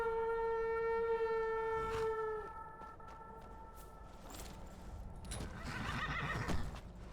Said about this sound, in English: Horse call.